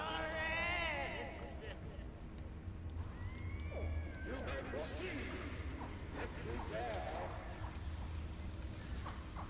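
A cat meowing in a video game, several wavering meows and yowls at moderate level, layered under game effects and a person talking throughout.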